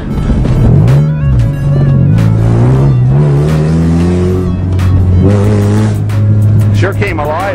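Mazda farm car with its exhaust removed, engine revving loud and close in rising and falling pitch sweeps, repeated several times, with people talking over it.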